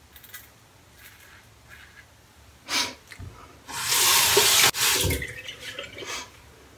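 A tap runs while someone rinses off after a shave with a 1980s-style razor, water hissing loudly in two close bursts in the middle, with soft splashes and breathing around it.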